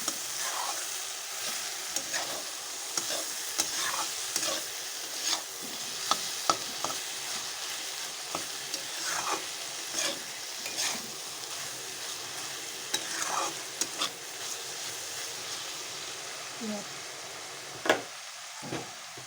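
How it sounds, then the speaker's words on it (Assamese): A spoon stirs fish curry in a pot, scraping and sloshing in irregular strokes over a low simmering bubble, close and moderately loud with a sharp clack near the end; no voices. "এতিয়া অকণমান লৰাই দিওঁ"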